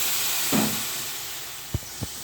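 Hot water from a second burner is poured into a pan of soya balls cooking for a soya ball masala, giving a steady steamy hiss and sizzle with a soft burst near the start and two short knocks toward the end.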